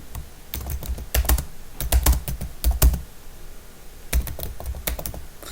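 HTML code is typed on a computer keyboard in quick, close bursts of clicking keystrokes, with a brief pause in the middle before another flurry.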